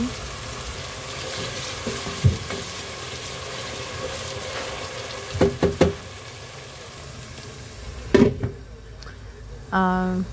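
Chopped onion frying in hot oil with browned garlic in a pan makes a steady sizzle, broken by several sharp clatters and stirring knocks, with a voice speaking briefly.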